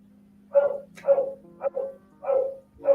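A pregnant dog barks about five times in short, evenly spaced bursts, fairly close, over a steady low hum.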